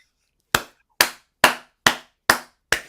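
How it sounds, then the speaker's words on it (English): Six sharp, evenly spaced hand claps from one person, close and crisp, each ringing off briefly in an otherwise quiet room. "just a slight clap for that"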